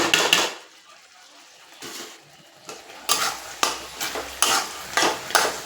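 Paneer pieces are stirred into fried spice masala in a pan, with repeated scraping strokes and light sizzling that grow louder after a quiet stretch near the start.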